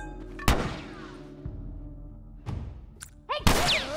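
Gunfire in The Last of Us, several sharp separate shots with echoing tails, spaced about a second apart, moderately loud, with a faint voice in between.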